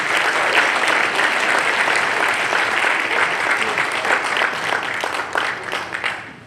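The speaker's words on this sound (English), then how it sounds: "I think you need to give yourselves a round of applause for showing up and showing out." An audience at a public gathering applauds steadily and loudly, a dense wash of clapping that slowly thins out near the end.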